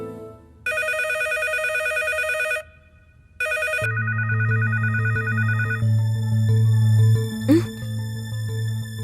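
A telephone ringing in bursts of electronic trilling, then a steady ringback tone with a low hum underneath while a call is placed, with a brief sharp click near the end; no voices.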